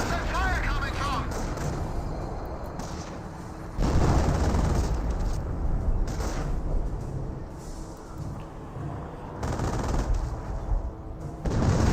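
Battle gunfire in the World War II strategy game Company of Heroes: machine-gun bursts, rifle shots and dull explosions crackle continuously across the battlefield, with a commentator talking over the din.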